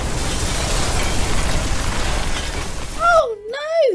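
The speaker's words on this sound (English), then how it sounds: "there was a loud explosion" A cartoon fire engine with a faulty engine blows up in a loud, sustained burst of crackling, roaring noise, followed near the end by short cartoonish whooping and sliding tones.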